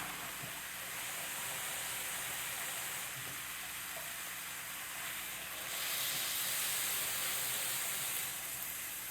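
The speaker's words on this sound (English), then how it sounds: "I'm going to add my water now." Two cups of water poured into a hot pan of pork and mushrooms, giving a steady, loud hissing sizzle of steam that swells slightly midway and continues without talk.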